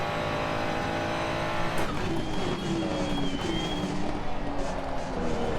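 Ferrari 296 race car engine in Assetto Corsa Competizione at Kyalami, revving steadily with a rising pitch after an upshift, close and continuous with faint tyre noise underneath.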